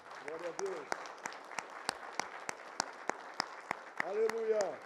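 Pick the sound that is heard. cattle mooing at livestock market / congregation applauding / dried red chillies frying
congregation applauding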